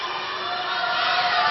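Ateneo supporters roar steadily through a gym during a UAAP semifinal women's volleyball match against La Salle, a dense, sustained crowd wash that swells slightly louder toward the end with no distinct voices.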